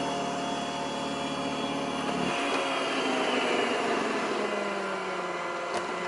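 A robot vacuum cleaner with a mop mode drones steadily while cleaning a kitchen, a close, continuous motor whine that changes tone partway through as its suction shifts, with no talking.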